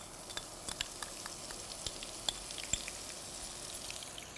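Steady crackling sizzle of ginger-garlic paste frying in hot mustard oil, with scattered sharper pops over a continuous hiss; no voices.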